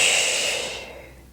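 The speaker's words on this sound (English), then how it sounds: "Exhale." A single long exhale during a wall Pilates workout, a breathy airy rush that starts strong and fades smoothly over about a second, close to the microphone with no talk.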